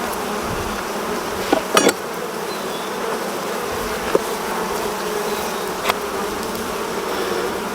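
Africanized honey bees buzz steadily from an open hive, a dense continuous drone with a few brief louder knocks and clicks, no talking.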